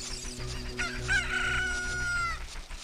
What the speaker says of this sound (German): Warum sind hier überall Hühner?